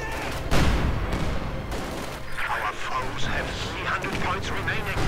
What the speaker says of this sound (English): Same here, MG42 quickly stops it down.